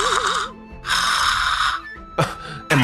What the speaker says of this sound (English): Am I hearing snoring right now?